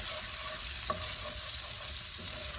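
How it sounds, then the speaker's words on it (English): Olives tossed into a hot pan over browned chicken drippings and stirred, giving a steady, close sizzle with one brief spoon scrape and no talking. "Then I'm gonna add my olives in."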